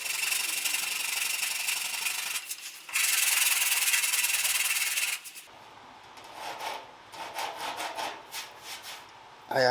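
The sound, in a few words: sanding a scratch on a Caterham Super Seven body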